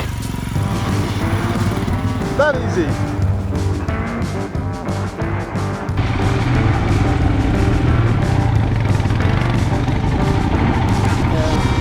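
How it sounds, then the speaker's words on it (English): A Royal Enfield Himalayan motorcycle idles with a steady thumping engine note, then the revs rise and hold louder as it pulls away; someone speaks briefly near the start. "let out the clutch and start riding away"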